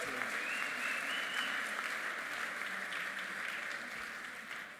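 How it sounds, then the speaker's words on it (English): Audience applause at a folk music awards ceremony, dense and continuous, heard from a distance. It stays steady and tapers off slightly at the end. "yeah, you can clap for that"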